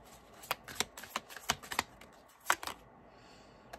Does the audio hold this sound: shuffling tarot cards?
yes